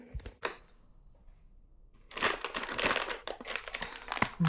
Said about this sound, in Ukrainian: Оп, буду зараз це сюди пересипати.